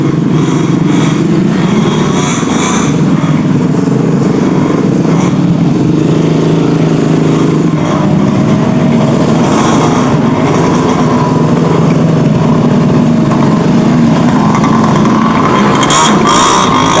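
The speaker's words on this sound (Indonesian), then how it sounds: "Pakai motor kayak off-road nih." A loud trail motorcycle engine drones and revs steadily throughout, rising and falling as it rides off-road, with no talking.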